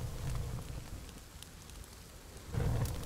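Steady rain patters in the survival game The Forest, a dense broadband hiss with faint drips that swells louder near the start and again at the end.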